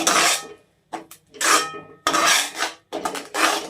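Spoon scraping and stirring red chilli powder into a hot, sweet-sour lemon pickle in a pot, in several separate loud rasping strokes with short pauses between them, close and without talk.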